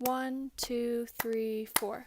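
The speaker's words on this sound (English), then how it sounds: "if we're going to clap it, it just sounds like this" Four sharp hand claps in an even quarter-note beat, close and clear, with a voice counting aloud alongside each clap.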